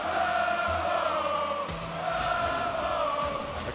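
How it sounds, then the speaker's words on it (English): A large arena crowd chants "Turbo" at the RLCS Season 5 Rocket League grand final between Dignitas and NRG, a loud, sustained rhythmic roar of many voices. "The crowd erupts in a chant of Turbo."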